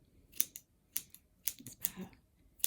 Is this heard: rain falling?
no